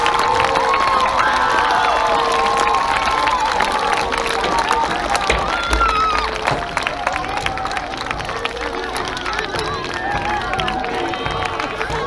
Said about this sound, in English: please join me in giving them a tremendous round of applause as appreciation for what they've done for our school